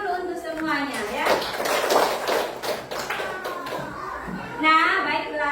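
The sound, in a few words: children clapping hands in class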